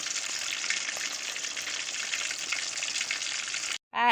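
Chicken lollipop pieces frying in hot oil, a dense, steady crackling sizzle heard up close throughout, cutting off abruptly near the end before a brief burst of another sound.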